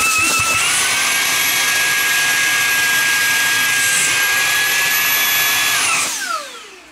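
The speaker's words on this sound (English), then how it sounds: "It is pretty powerful for such a small cleaner." A small, powerful handheld vacuum cleaner runs nearby with a loud, high-pitched motor whine, holding steady for about six seconds before spinning down and fading out.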